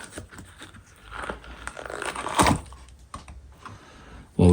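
A plaster Paddington figure cast from a 1970s mould gives a close, scratchy crackle with a sharp crunching snap midway as its head is broken off, ending in a loud thump.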